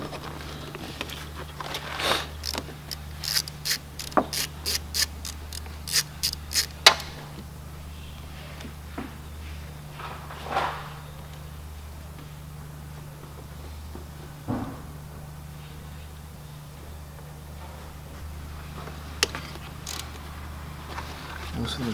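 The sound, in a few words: ratchet loosening 8mm bolts, Ford Fusion water pump replacement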